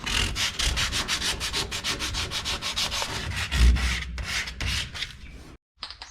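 A chopped Chevrolet car body is sanded by hand in steady, close back-and-forth strokes, rhythmic and scratchy, ending with a short pause and a final stroke.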